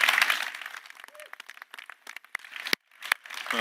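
Applause from an audience greeting the new ESA astronaut class, loud at first, then thinning into scattered, fading claps with brief gaps.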